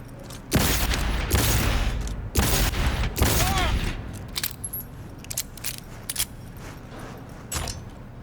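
Heavy gunfire in Cyberpunk 2077 comes as several loud, dense bursts in the first few seconds, then thins out into scattered, quieter impacts and clatter.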